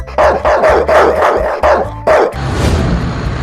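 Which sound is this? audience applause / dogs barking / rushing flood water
dogs barking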